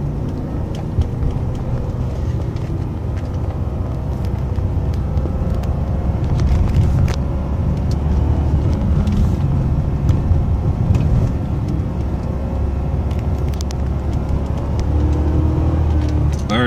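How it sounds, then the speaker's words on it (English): An Infiniti M56 or M45 accelerates hard while held in first gear, a loud, steady engine roar with deep low rumble that swells and climbs as revs rise, continuous and close throughout with no voices. "I'm gonna try to hold first gear for as long as I can."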